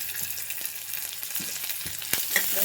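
Curry leaves and coriander frying in hot oil in a pan for a Telugu dondakaya (ivy gourd) fry, a steady close hiss and sizzle with a few soft stirring clicks, no talk.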